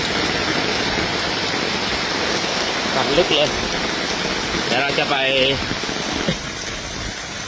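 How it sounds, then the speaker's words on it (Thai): Heavy rain pours down steadily as floodwater rises to about shin depth, a dense continuous hiss filling the whole stretch, with someone talking close by over it. "เพราะว่าฝนตกหนักมาก"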